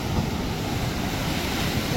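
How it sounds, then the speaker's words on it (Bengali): Big sea waves break at Digha beach as the tide comes in, giving a dense, continuous roar of surf mixed with gusting wind buffeting the microphone. "দেখো কত বড় ঢেউ আসছে।"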